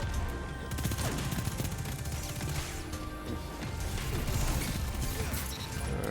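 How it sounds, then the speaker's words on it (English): Hip-fired Recluse submachine gun in a first-person shooter game, a continuous loud stream of rapid shots over a busy, dense mix of game effects. "A little hip fire with Recluse."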